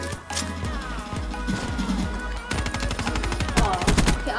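Rapid gunfire from Black Ops 3 gun-game multiplayer, with repeated sharp shots in quick bursts and clattering impacts layered over game noise, loud and close throughout.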